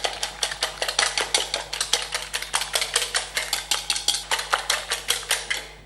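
Eggs for a pizza omelette are beaten briskly with a utensil against a bowl, producing a fast, steady run of close clinking taps over a constant low hum.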